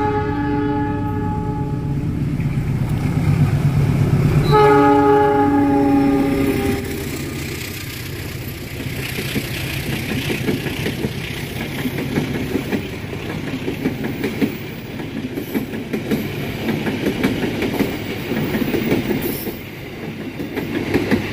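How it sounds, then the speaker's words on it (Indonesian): The Malabar passenger train sounds its horn in long blasts, then rolls steadily through Nagreg station without stopping, with rumbling wheels and rhythmic clacking on the rails. "Kereta api Malabar melintas langsung stasiun Nagrek."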